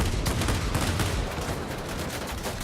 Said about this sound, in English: we have the 1300 plus DPS cannons here